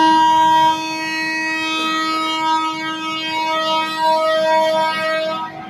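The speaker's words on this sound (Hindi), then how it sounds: "ट्रेन का सिग्नल हो चुका है," Signal horn of the Capital Express train on its Ujjain to Varanasi run: a loud, steady, tonal blast held for nearly six seconds, alone and without any talk.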